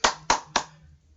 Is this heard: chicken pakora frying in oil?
no